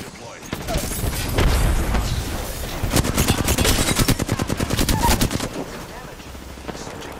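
Rapid automatic gunfire in the battle royale game Apex Legends during a ranked match, sustained bursts of sharp, loud shots in a fast rhythm, with explosive booms and cracks of impacts mixed in.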